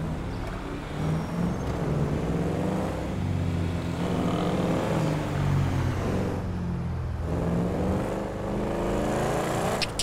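Car driving in Grand Theft Auto V, a steady engine drone with shifting revs running the whole time, moderately loud and with no talking over it.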